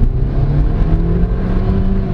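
Engine of a 2022 Changan Alsvin Platinum sedan with a DCT gearbox droning steadily from inside the cabin, a loud continuous low hum with no talking.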